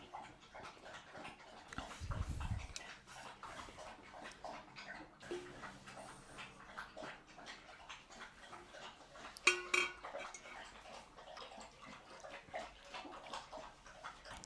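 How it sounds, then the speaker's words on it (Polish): A dog laps water steadily at close range, a quick wet rhythmic slurping that runs on and on, with a few clinks of a bowl partway through. "Aha, piesek pije wodę."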